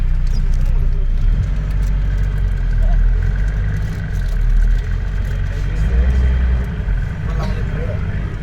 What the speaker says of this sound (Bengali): জ্যাম লেগে গেছে।